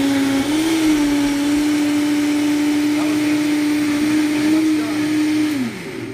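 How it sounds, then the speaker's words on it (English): A Vitamix blender runs with a loud, steady motor whine for several seconds, the pitch rising slightly at the start and dropping away as it winds down at the end, heard close and alone. "There's the Vitamix. Can't go wrong."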